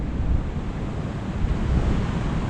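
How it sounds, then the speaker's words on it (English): Choppy sea waves surging and washing along the rocky shore at Playa Blanca, Lanzarote, a steady broadband roar with wind buffeting the microphone throughout and no voices. "Right there, choppy waves then."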